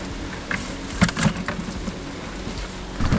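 Steady rain falls outdoors at a lake, a dense hiss of drops on surfaces with a few louder nearby splats and taps, close and continuous.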